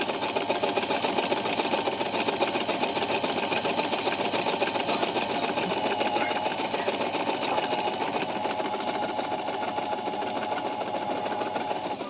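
A Singer 1408 digital sewing machine runs continuously while stitching a decorative design, a steady rapid mechanical whir with fine regular needle ticks throughout, close and unbroken.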